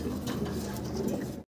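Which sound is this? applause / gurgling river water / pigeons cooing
pigeons cooing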